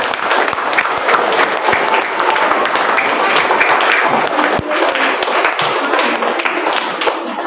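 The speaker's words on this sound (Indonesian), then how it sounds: "Kita beri aplaus dulu ini" Sustained applause from a school audience at a junior high democracy event, steady dense clapping, loud and close, continuing throughout.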